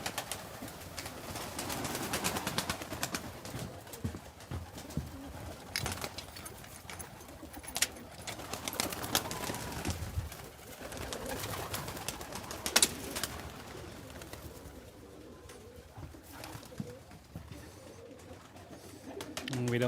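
Pigeons kept in an animal sanctuary enclosure coo steadily through a dense, busy background, with voices mixed in under the birds.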